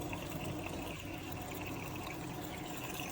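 A BloomBloomme pet water fountain pump running, giving a steady, continuous trickle and splash of circulating water with a constant hum underneath, close and unchanging.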